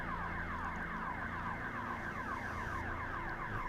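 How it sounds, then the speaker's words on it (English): A rising and falling electronic wail from sirens at the German MotoGP Grand Prix repeats steadily without pause, loud and continuous, with a low rumble underneath. "The sirens going off in the background."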